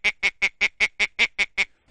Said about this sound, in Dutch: Maar dit is een eendenlokker is het.